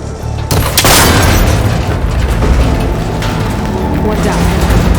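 A cable connector shot and breaking apart in Horizon Forbidden West, a sudden loud burst followed by a sustained rumbling crash and debris clatter that stays heavy to the end.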